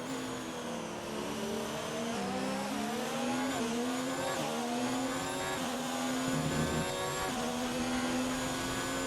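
A Formula 1 car engine in a racing video game on the Brazil circuit, a loud, continuous high-pitched whine rising and falling through gear shifts as the car accelerates and slows for corners.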